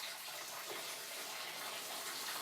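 Liquid is poured over a lid while home brewing with malt in a kitchen, a continuous soft splashing wash of water that runs evenly and fairly quietly throughout.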